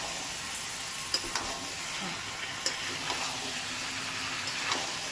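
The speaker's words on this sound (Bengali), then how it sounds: "এবার দিয়ে দেবো চিকেনটাকে। এবার চিকেন দিয়ে কষানোর খেলা।" Chicken for Bengali winter methi chicken sautés in a pan with spices, giving a steady soft sizzle with occasional light scrapes and taps of a spatula.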